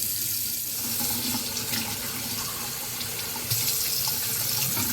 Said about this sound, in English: We're gonna get it rinsed off.